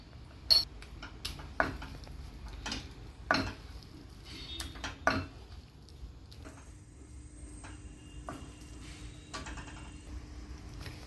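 Singhara flour halwa with cardamom powder is stirred in a pan, making scattered spoon knocks and soft scraping, close and quiet, with a faint sizzle underneath and no voices.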